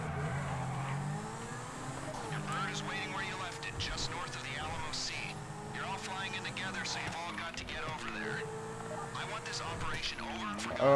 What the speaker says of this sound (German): Oh, ein Auto.